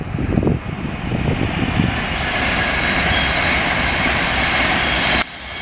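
A train passing near a canal by the Wedgwood estate rumbles as a broad, loud, continuous roar that swells early on, then holds steady before cutting off abruptly near the end.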